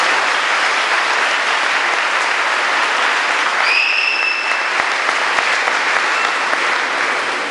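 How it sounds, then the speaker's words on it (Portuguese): A church congregation bursts into loud, sustained applause during a sermon, dense clapping filling the whole stretch, with a brief whistle-like tone rising partway through. "Você não pode aplaudir ele?"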